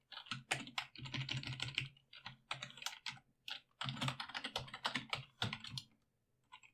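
Keys clatter on a computer keyboard in quick bursts of close, crisp typing separated by short pauses, with no voices.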